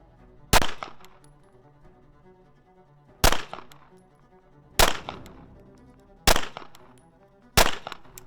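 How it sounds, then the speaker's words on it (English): Five pistol shots from a UL comp handgun fired at about 10 yards ring out as loud, sharp cracks spaced one to two seconds apart, each with a short ringing tail, no talking. "I'm just gonna do a 5-shot group at about 10 yards"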